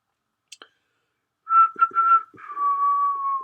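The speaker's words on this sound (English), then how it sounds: "That's me trying to whistle." After two brief clicks, a person whistles a short wavering tune, a few choppy notes followed by one long sliding tone, alone in silence.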